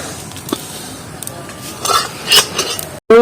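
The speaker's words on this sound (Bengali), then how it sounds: "একেবারে শিলনোড়ায় আমি ঢেলে নেবো।" Fried spices for a raw mango pickle being tipped from a pan onto a stone grinding slab, giving a few clinks and scrapes of metal on stone, with a louder clatter near the end.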